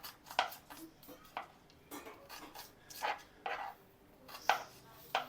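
A small kitchen knife chops vegetables in a home kitchen, giving sharp, separate cutting taps at an uneven pace, close and moderately loud, with faint background noise.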